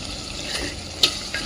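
Mutton biryani rice being stirred in a clay pot, Telangana style: soft scraping and shuffling of grains with a faint sizzle beneath, plus one brief sharp clink of the utensil against the pot, quiet and close.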